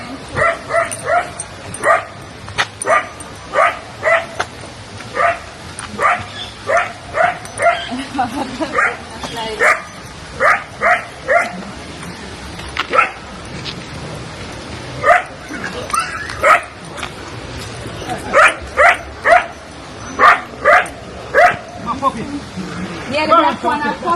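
A black puppy yips and barks repeatedly in quick bursts, loud and close, with whimpers mixed in and voices talking in the background.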